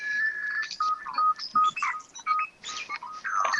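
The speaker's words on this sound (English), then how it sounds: "That is my phone." A mobile phone rings nearby with a bright electronic ringtone, a series of short melodic beeps and tone bursts, loud and alone.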